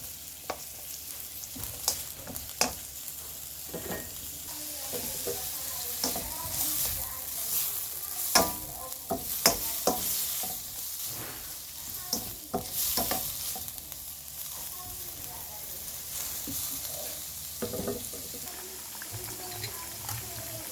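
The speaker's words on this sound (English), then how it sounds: "So you're going to always be stirring." Vegetables frying in a pan, including sweet potatoes, with a steady bubbling sizzle and frequent scraping, clattering stirs of a utensil, close and continuous over the whole stretch.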